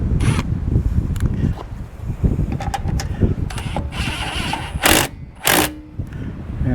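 Impact gun running up the lug nuts on an Acura wheel after a tire patch, rattling mechanical buzz through the first half followed by two short loud bursts near the end, close up.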